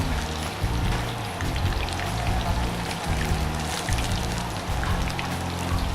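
Chicken lollipops frying in hot oil, a steady dense crackling bubble that runs close and loud without a break for the whole stretch, with no talk over it.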